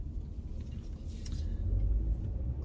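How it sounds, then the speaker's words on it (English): The gasoline engine of a 2020 Honda Accord Hybrid runs while leaving a parking spot, a faint low rumble that swells slightly and holds steady, heard from inside the car. "So right now the engine is engaged"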